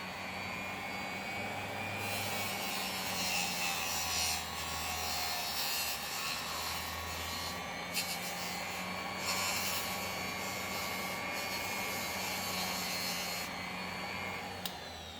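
Polishing tool running against a graphics card water block fitting, a continuous buzzing whir with a steady tone and occasional brief shifts in pitch, close and fairly loud, no talking.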